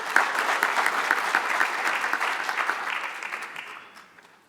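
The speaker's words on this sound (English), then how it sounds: "Can you give him a round of applause?" A conference audience claps at a national space conference, sustained and fairly close for several seconds before trailing off toward the end.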